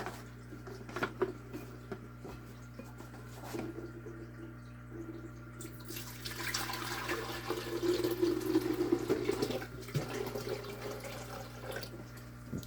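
Water runs into a rotifer baby tank, starting quietly with a few knocks and swelling into a steady, louder rush of pouring and splashing over the last half, with no voices.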